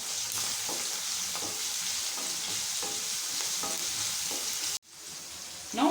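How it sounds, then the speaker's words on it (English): Hing and turmeric powder frying in a pan for a South Indian vathal kuzhambu, a continuous close sizzle with soft rhythmic scrapes of a spoon mixing, briefly cut off before the sizzle resumes. "and fry for a minute"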